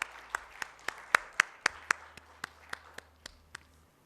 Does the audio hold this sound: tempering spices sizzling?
no